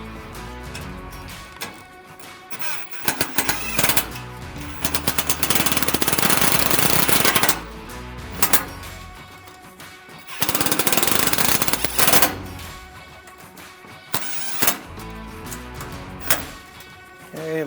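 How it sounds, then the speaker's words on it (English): Power tools tightening spare tire mount hardware on a Polaris Ranger XD1500: loud, close rattling impact bursts of a few seconds each, repeated several times with short pauses between. "we'll now come back through with our tools, get everything tightened down"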